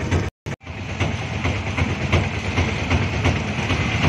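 A train rolls past a railway crossing on a Chennai to Tenkasi trip, a loud, steady rumble with rhythmic wheel clatter close by after a brief drop-out at the start.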